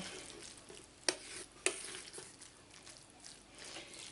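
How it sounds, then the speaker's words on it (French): Cooked meat stirred together with sweet potato purée for stuffed sweet potatoes, a soft muffled mixing with two sharp utensil clinks against the bowl early on, then quieter squishy stirring. "On vient mélanger la viande avec la patate douce"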